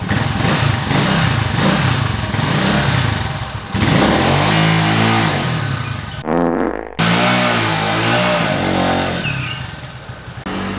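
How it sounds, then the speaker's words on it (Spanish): An AKT NKD125 motorcycle engine revs hard during a small burnout, loud and close, rising and falling in several surging pulls with a brief cut near the middle. "Vamos a intentar hacer un pequeño burnout."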